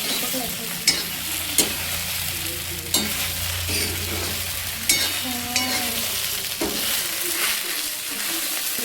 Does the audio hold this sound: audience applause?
no